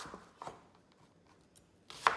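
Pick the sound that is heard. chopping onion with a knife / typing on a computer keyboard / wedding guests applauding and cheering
chopping onion with a knife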